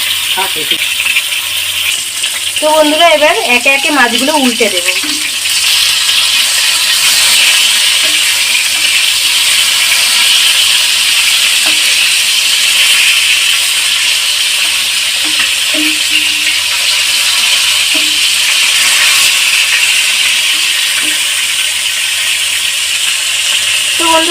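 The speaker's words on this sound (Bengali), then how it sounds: "আমি হালকা হালকা করে ভেজে নিয়ে আসবো ঠিক এই যে এরকম করে" Bhola fish frying in a pan for a Bengali-style curry, giving a steady, bright sizzle and crackle throughout, with a brief clatter of stirring or handling near the start, close and fairly loud.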